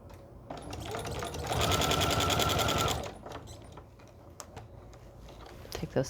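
A sewing machine runs a steady, fast stitching burst corner to corner along a creased line on an appliqué pillow, starting and stopping crisply between quieter fabric handling, with faint background voice.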